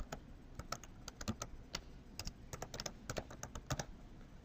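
Rapid, uneven typing on a computer keyboard while entering a HANA server host name, with crisp close keystrokes tapping in quick bursts throughout.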